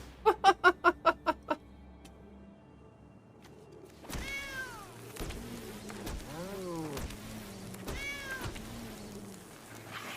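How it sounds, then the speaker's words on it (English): Cat meows in the MTG Arena card game: a quick burst of six or seven short chirping sounds at the start, then after a pause several longer, clear meows in close succession, loud and alone. "Oh, that's a nice fucking kitty right there."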